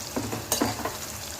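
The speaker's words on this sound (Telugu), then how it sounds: "ఇప్పుడు మనం ఉడకబెట్టుకున్న లివర్ వేసేద్దాం." Boiled chicken liver tipped into a pan of golden fried onions, giving a soft, steady sizzle with a few louder stirring scrapes near the start.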